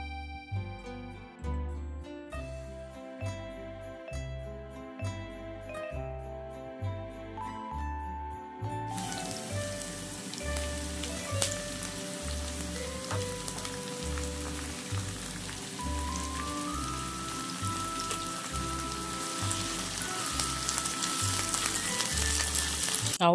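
Onions stir-fried in a hot pan for a sardine fried-egg breakfast, a steady crackling sizzle that grows denser and louder, playing alone under a backing track with no talk.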